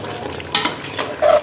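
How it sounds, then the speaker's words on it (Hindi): Kasuri methi roasting with spices in ghee in a pan, a soft continuous sizzle under stirring scrapes, with a brief louder spoon scrape near the end. "अब इसकी मेथी की अच्छी तरह बुनाई करेंगे"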